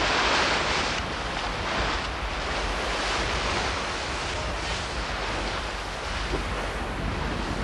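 Strong wind roars across the microphone over steady breaking ocean surf during a round-the-world yacht race, with racing yachts driving through rising seas; the wind and surf stay loud and continuous throughout.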